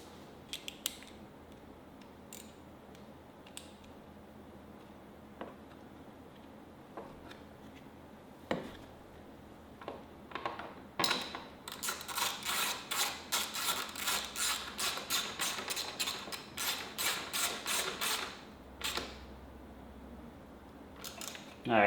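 A bolt is tightened while a Yamaha YFZ 450R ATV is being assembled. Scattered metallic clicks and creaks come first, then a long run of rapid ratcheting clicks follows. Everything is close and fairly quiet.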